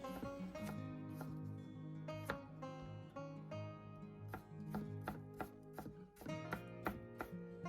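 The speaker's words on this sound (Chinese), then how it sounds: "把马蹄切碎" Canned water chestnuts are chopped finely with a knife on a board, a quick series of sharp, close taps in uneven bursts over a faint tonal background.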